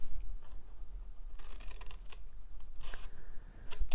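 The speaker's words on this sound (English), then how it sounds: "I'm going to cut that little corner off" Scissors snip through the corner of a small paper candy box, a few quick, close cutting crunches in short bursts over a quiet room hum, with no one talking.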